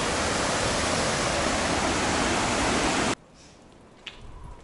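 Loud, steady rushing of a river flowing past an old flour or grain mill in a mountain village in Corsica, a dense broadband roar that cuts off abruptly partway through, leaving quiet ambience.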